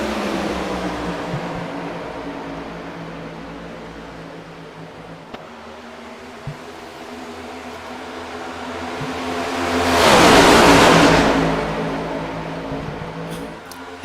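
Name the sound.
race car accelerating at full throttle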